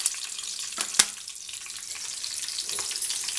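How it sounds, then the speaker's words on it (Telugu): Chopped green chilli pieces frying in hot oil for a Telangana-style spicy tomato chutney, a steady soft sizzle with a couple of sharp stirring clicks near the start and no voices. "వాటిని ఇట్లాగా ఫ్రై చేసుకోవాలి."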